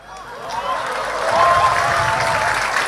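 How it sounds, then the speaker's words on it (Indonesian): Audience applause during a religious speaker's talk, clapping swelling from soft to full and sustained, with a voice faintly running underneath. "ini yang tepuk tangan"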